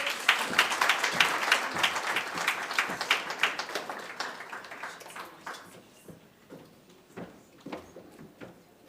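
Applause from an audience at an African languages academic conference, starting as dense, loud clapping and thinning over several seconds into a few scattered, distinct claps near the end.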